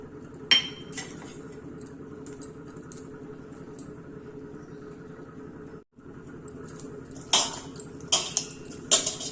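Peanuts mixed into cooled brinjal rice in a vessel, soft scraping stirs broken by distinct spoon clinks against the metal, several louder knocks toward the end.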